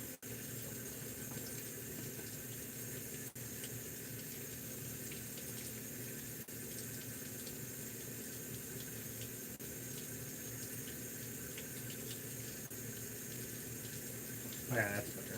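A tap runs steadily to wet a towel for a shave, a constant close rush of water that holds unchanged for the whole stretch, with a brief clatter near the end.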